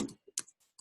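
A few quick, close keystrokes on a computer keyboard while entering code, sparse crisp clicks separated by short silences, with nobody talking.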